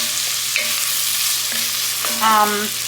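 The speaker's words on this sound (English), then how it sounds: "After this is done sauteing and getting tender, then I'll add the flour." Vegetables sauté in a pot for roasted cauliflower soup, giving a close, continuous sizzle with scraping stirs and soft clinks of the utensil against the pot.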